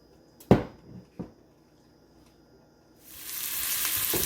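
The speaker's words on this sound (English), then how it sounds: "Cooking oil in my heated pan." Cooking oil in a heated pan starts a bright, steady sizzle partway through, after a few sharp knocks and clatters of a pan and utensils in an otherwise quiet kitchen.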